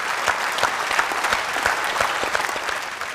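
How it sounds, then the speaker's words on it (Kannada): An audience at a game show claps loudly and steadily, a dense burst of applause lasting a few seconds with no talking over it. "ಜೋರಾಗಿ ಚಪ್ಪಾಳೆ ಟ್ರೈ ಮಾಡಿದ್ದಾರೆ."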